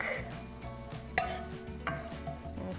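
Garlic sautés in oil in a pan for stuffed pasta shells. There is a soft steady sizzle with a low background hum and a couple of sharp utensil taps, close and fairly quiet with no talking.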